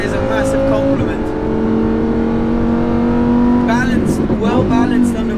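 A Lamborghini Huracan Super Trofeo race car engine pulls hard uphill, a steady loud drone rising in pitch as it accelerates, with a brief gear-change stutter near the end, heard from inside the car.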